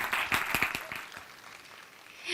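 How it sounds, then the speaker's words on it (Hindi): Audience applause for a judge at a singing talent show premiere, a short burst of clapping that quickly fades, with a faint swell of sound at the very end. "एक बार जोरदार तालियां हो जाए उनके लिए।"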